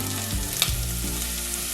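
Meatballs frying in hot oil in a pan, a steady close crackling sizzle with a brief sharper pop partway through, no voices.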